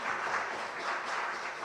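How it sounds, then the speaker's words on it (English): Audience applause at a youth forum breakout session of an international summit, a soft, moderately dense wash of clapping that holds steady and sounds somewhat distant. "So let's give a big round of applause for all of us."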